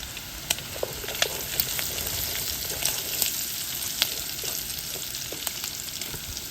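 Italian sausage with sage and rosemary leaves fries in brown butter, giving a steady, dense sizzle with scattered small pops and crackles throughout and no talking.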